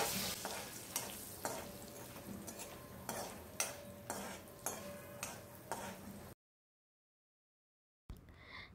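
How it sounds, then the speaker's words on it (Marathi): Curry leaves sautéing in oil over a low flame in a pan, a soft steady sizzle broken by a regular series of stirring scrapes, then a stretch of silence before the sizzle briefly returns. "मंद आचेवर अगदी थोडा वेळ परतून घेऊया।"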